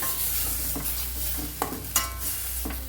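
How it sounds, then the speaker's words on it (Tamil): Cooked toor dal stirred into simmering greens in a pan, low bubbling sizzle with a few soft spoon knocks and scrapes, close by. "இப்போ வேக வச்சுருக்கிற துவரம் பருப்பை நம்ம அதில் சேர்த்துறோம்"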